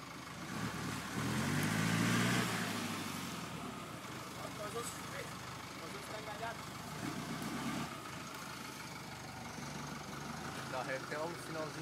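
A vehicle engine runs close by as it backs up, a steady low rumble that swells briefly early on and then settles, with people talking over it throughout.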